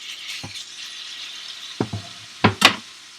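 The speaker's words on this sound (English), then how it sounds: "You want to hear that sizzle when you put something in" Chicken hisses and sizzles in a hot skillet, with a few sharp clattering knocks and scrapes of utensils against the skillet.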